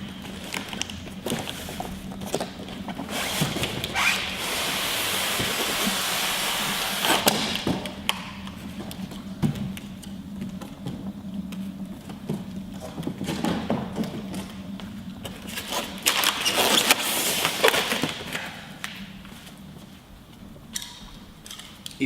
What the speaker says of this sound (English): Carefully open the packaging.